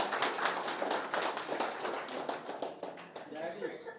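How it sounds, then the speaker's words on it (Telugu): An audience at a poetry seminar claps together in quick, fairly even rhythm, moderately loud, for about four seconds. "గట్టిగా చప్పట్లతో శుభాకాంక్షలు చేద్దాం మనం అందరం"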